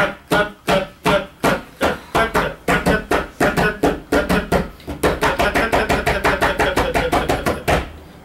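Tabla cut stroke, a sharp dry slap struck in the middle of the black spot, repeated about thirty times, starting evenly spaced and then speeding up into a quick steady run, close and crisp.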